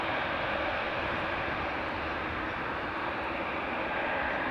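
A jet departing from a runway at Amsterdam Schiphol Airport gives a steady, broad engine roar that holds strong and constant throughout, with no talk over it.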